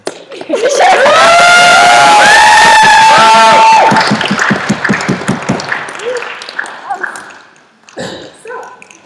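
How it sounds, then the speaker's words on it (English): Loud cheering and whooping from a debate audience, with shouts and howling voices over clapping that fades into scattered claps and chatter. "You can clap for 40 seconds"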